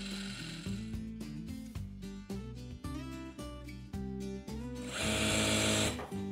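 A sewing machine stitches a folded strip onto a cowl tulip dhoti in close, rapid rattling bursts with short pauses, then runs in a longer, louder stretch near the end.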